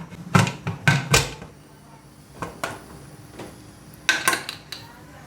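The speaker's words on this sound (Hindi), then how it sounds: "अभी मैं प्रेशर कुकर को ऊपर से बंद करने लगा हूँ" A pressure cooker lid being closed over boiling water on a home stove for chicken karahi, heard as a few sharp metallic clanks and knocks in quick bursts, close and fairly loud.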